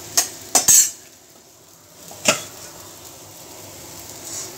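A metal spoon clanks against a pot as 1 kilo of mutton is added to fried masala and mixed, several sharp clinks early, another later, over a low faint sizzle.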